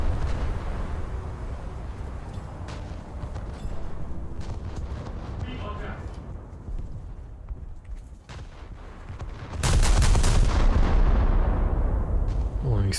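Heavy warship guns firing at the battleship Arizona in a naval video game, a series of booming blasts over a low rumble, ending in a loud sustained roar, with someone talking throughout.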